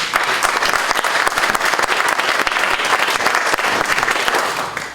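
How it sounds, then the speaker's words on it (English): A crowd at a community forum on immigration bursts into loud, dense applause. Close, continuous clapping fills the room without a break. "Let's give her a round of applause."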